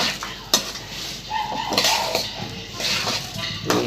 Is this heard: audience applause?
no